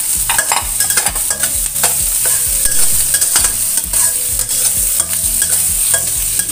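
Sausage is stir-fried in a little oil in a pan, with a loud, continuous sizzle under a steady rhythm of utensil scrapes against the metal, close up and without talk.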